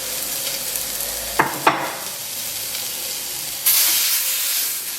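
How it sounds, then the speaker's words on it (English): Spice paste for Javanese rawon toasting in a hot reactive pan, a low steady hiss broken by two short scraping strokes, then a louder burst of sizzling near the end. "So I've heated up my pan, so now it's hot. And I'm going to toast this"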